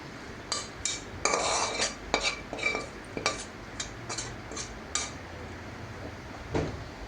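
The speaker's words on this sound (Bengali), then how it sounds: "এখন শাকটা আমি বেড়ে নিব বাটিতে।" Cooked red greens served from a pot into a bowl: a run of spoon scrapes and clinks against metal and crockery, irregular and close, with brief pauses between scoops.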